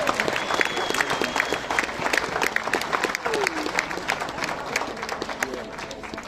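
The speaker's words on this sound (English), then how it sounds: "Please give another big round of applause for Queensland on their birthday." A crowd at the closing ceremony of an under-12 national football championship in Melbourne applauds steadily while a voice talks over the clapping.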